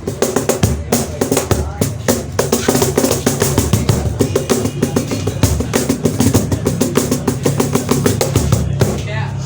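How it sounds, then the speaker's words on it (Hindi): A specially built box drum fitted with snare wires is played with quick rhythmic strikes, giving dense, buzzy, crisp hits in a steady pattern that runs throughout at close range and fairly loud. "स्नेयर तार्स लगी हुई हैं, जिसकी वजह से ये छिक आवाज़ें आती हैं।"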